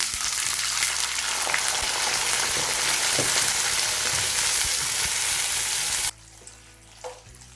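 Blended fresh tomatoes cooking in extra virgin olive oil in a pan give a loud, continuous close sizzle and spatter for about six seconds, then drop abruptly to quiet with a faint clink.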